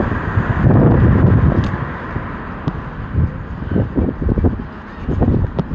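Wind gusts buffet an unshielded microphone on a sandy beach, a loud low rumble that swells and fades in uneven bursts with no talking.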